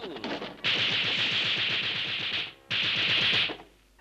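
Rapid bursts of rifle fire crackle in two long, loud volleys in a cartoon, the shots running together almost like automatic fire, with a brief gap between them.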